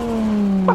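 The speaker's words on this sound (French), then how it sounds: "c'est le bruit d'une Nissan GTR" A Nissan GTR R34 engine revs in a VR racing game, a loud, steady droning tone that sags slightly in pitch over under a second, ending with a brief click.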